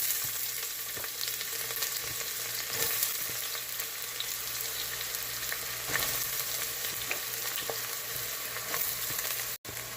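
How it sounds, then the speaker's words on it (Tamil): Onions frying in a pan for a mutton gravy give a soft, steady sizzle. Occasional spoon scrapes and taps break it up, it sounds fairly quiet and close, and nobody speaks. "இப்போ நல்லா வெங்காயம் நல்லா சுருண்டு வதங்கியாச்சு."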